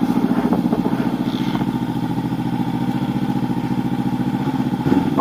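A 2019 Honda CB500X motorcycle engine idles steadily in winter to warm up, a close, even low-pitched throb with a light mechanical clatter, running alone without talk.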